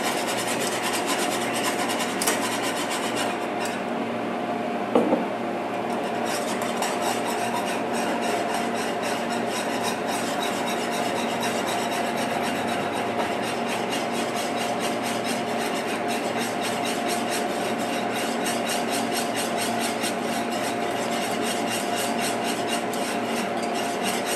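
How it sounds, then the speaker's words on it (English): A whisk scrapes and rasps continuously against the inside of a pot of gravy, a steady close rubbing texture with one brief clank partway through and no talking. "And I whisk."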